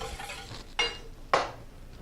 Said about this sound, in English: I'm gonna beat it gently.